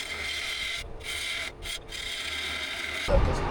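A hand scraper shaves hard burnt wood while shaping a lamp stem, giving a steady, close rasping scrape with two brief pauses and a heavier stroke near the end.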